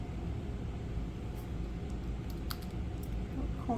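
A few faint netbook keyboard key presses, on an Asus Eee PC 901, click softly over a steady low hum, sparse and irregular, with no voices.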